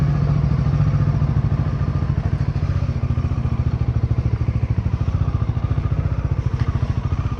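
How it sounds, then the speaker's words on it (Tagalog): A Bajaj Dominar 400 motorcycle engine runs steadily while riding, its rapid low putter close by and continuous, with faint clatter over the top. "So itong motor na to, napakagaan nito pagka umaandar na."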